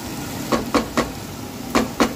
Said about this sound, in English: So I'm going to put this in there, get that browning.